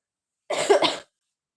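A single close cough burst, about half a second long, loud and harsh, with silence before and after.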